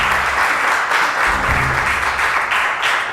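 Audience applause at a televised cooking contest, a dense steady clapping from a crowd that carries on without a break for a few seconds.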